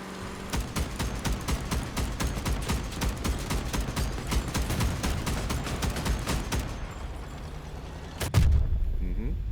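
Enemy gunfire in a war strategy game, with partisans fighting: a long, even rhythm of rapid shots, later a heavy blast and continued rumbling. A voice talks over part of it.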